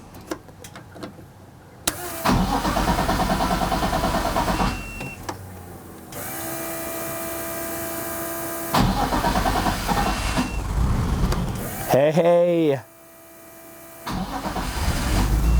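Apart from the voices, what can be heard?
car engine starting with an Auxito AJ01 jump starter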